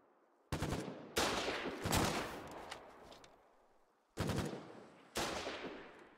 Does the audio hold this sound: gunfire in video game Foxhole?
yes